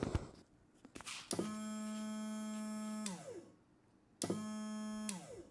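A small portable shower pump run from a battery whirs with a steady, high whine in two bursts, each starting with a click and winding down as it shuts off.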